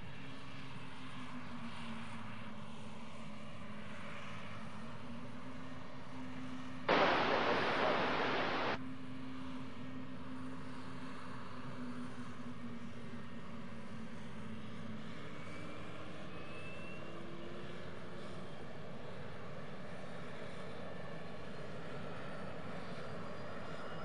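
A Qantas airliner comes in to land on runway 01 with a steady, distant engine drone that runs throughout. A brief burst of radio chatter sits early in the roar, and the engine tone shifts slowly.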